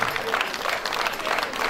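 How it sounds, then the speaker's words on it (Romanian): Audience at a judo sports club event clapping for the athletes, a dense, steady wash of applause close by and fairly loud for the whole stretch, with voices mixed into the crowd. "Haideți să-i aplaudăm sportivii dumneavoastră"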